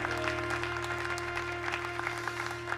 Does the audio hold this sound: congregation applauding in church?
yes